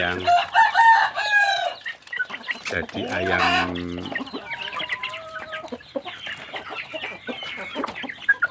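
Chickens, free-range village chicks, cluck and chatter close by, with a rooster crowing partway through, and a voice talking underneath the farmyard noise.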